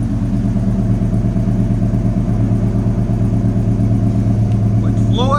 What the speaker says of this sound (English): Nice clean idle to it. Let you guys hear it on idle.